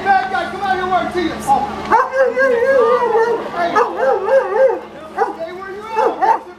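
A California Highway Patrol police dog at a Mojave substation barks and yelps excitedly, with loud repeated whining howls close by, while people talk at the same time.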